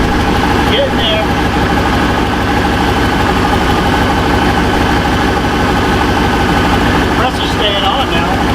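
A GM OBS truck idles loud and close with its air conditioning compressor engaged, a steady throbbing rumble with a faint whine on top, with no break throughout.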